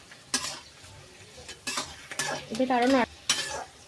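Capsicum is stirred and tossed in a frying pan for a spinach chicken dish, giving close scraping strokes of a spatula against the pan over a light sizzle, with a brief spoken phrase partway through.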